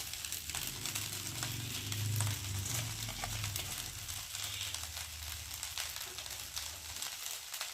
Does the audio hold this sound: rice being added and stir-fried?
yes